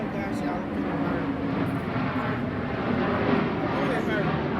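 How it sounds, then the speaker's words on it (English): Steady broadband rumble of an airplane passing overhead, a continuous even roar heard outdoors while people talk over it. "That's an airplane, you guys."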